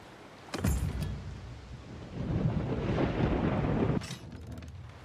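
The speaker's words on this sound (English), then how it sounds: "Lightning sounds cool" Thunder from a lightning strike in a video game: a sharp crack, then a long loud rolling rumble that cuts off into a second crackling burst, with steady rain-like noise underneath.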